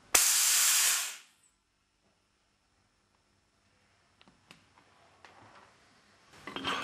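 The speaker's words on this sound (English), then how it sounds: "Release the compressed air." Compressed air bursts from an Alfa Laval Unique SSV single seat valve actuator in one loud, close hiss lasting about a second, then cuts off into silence before faint ticks and handling noises.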